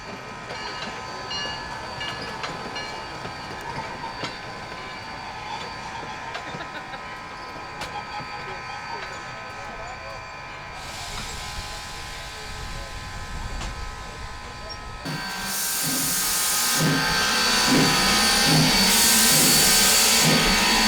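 A heritage excursion steam locomotive runs with a steady mechanical rumble and hiss. A louder, brighter blast of steam or whistle-like sound takes over near the end.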